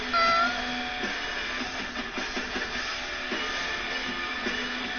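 A pet cat meows near a microphone, a fairly loud cry at the start followed by softer mews over steady background noise from a wrestling video game.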